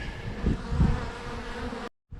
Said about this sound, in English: Still a few bees flying around